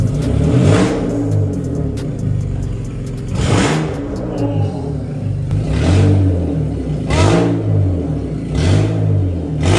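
A BMW 528i E39 with a holed exhaust revs hard in repeated loud, rasping bursts over a steady rumbling idle, close and raw.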